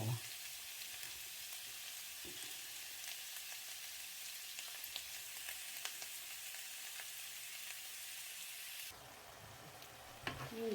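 Food stir-fried in a hot pan with egg sizzles and crackles steadily throughout, with occasional clinks of stirring, a change in the sizzle near the end, and no talk.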